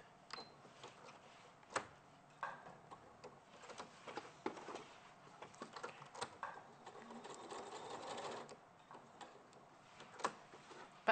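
A sewing machine quilting front and back bag panels, quiet intermittent stitching with ticking clicks and short bursts of movement, a few sharper knocks between runs, no clear talking.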